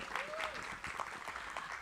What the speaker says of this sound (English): Go ahead and give her a round of applause.